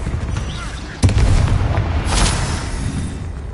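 Bombarda spell detonating in Hogwarts Legacy, a sudden booming blast followed by a rumbling, crackling tail that fades over a couple of seconds.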